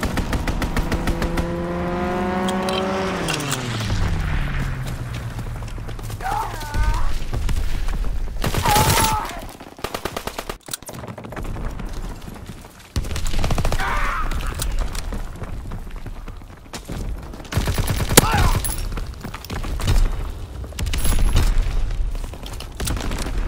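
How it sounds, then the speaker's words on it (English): An aircraft strafing run in the Call of Duty WWII multiplayer game: a falling engine drone gives way to bursts of gunfire and booming impacts that come and go over about twenty seconds, loud and up close amid ongoing battle noise. "Call for a strafing run."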